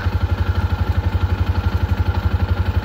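Polaris Ranger 500 utility vehicle engine cranking slowly on a failing starter, a steady low chugging rhythm of about ten strokes per second with metallic clatter, close and loud throughout without catching.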